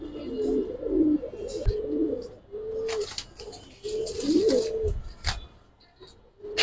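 A male Giribaz pigeon coos repeatedly in close, rolling phrases with short pauses between them, over light background noise and an occasional rustle.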